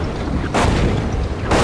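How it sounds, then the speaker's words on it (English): Artillery fire in the PC tank game Combat Team, heard from an M1IP Abrams: two sharp, loud blasts about a second apart over a steady low engine rumble, close and booming. "The artillery fire is getting intense, my god."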